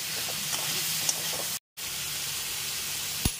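Potatoes, cauliflower and slit green chilli frying in a pan for a home-style cauliflower curry, a steady broadband sizzle with a brief dropout midway and a sharp clink near the end.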